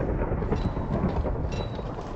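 A lightning strike in Minecraft, a deep rumbling thunder roar that fills the whole moment at steady loudness, with no voices.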